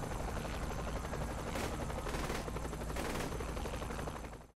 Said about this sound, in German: kommt noch mal ein neuer Helikopter